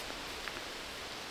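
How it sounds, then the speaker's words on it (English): Steady rain falling through a hilltop forest, a soft continuous hiss of drops on leaves with faint rustling, low and even throughout with no voices. "it's raining"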